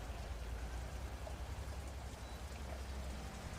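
Steady rain falling, a dense continuous hiss of drops with a low rumbling undertone, even in level throughout and heard with no voices.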